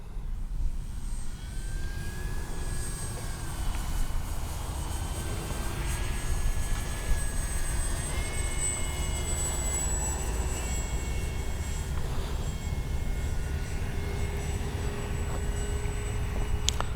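A Kavan Bristell B-23 RC model airplane flies on a windy day, its steady electric motor drone whining at a constant distance with slight pitch shifts throughout, with no talk.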